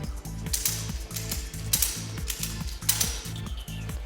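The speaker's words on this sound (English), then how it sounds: "We place a ratchet strap in the middle for this." A ratchet strap is cranked tight during assembly of a TW S3-19 double scissor lift, giving rapid rhythmic clicking pawl ratchets close up, repeated in regular strokes with sharper metallic snaps every second or so.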